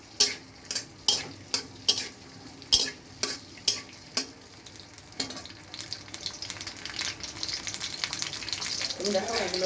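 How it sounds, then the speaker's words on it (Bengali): Washed peanuts fry in oil in a pan on a home stove, with a series of rhythmic scraping stirs that give way to a steady, rising sizzle. "ওদিকে বাদাম ভাজা হচ্ছে"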